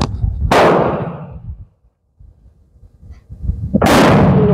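An M44 Romanian Mosin Nagant rifle fired twice, each shot a loud, close, booming blast with a long rumbling tail, separated by a brief lull of near silence.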